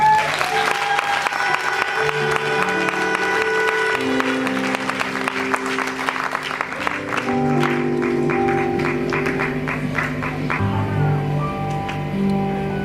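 An audience at a testimony event applauds loudly and steadily, dense clapping continuing throughout with a music or organ-like tone sustained underneath.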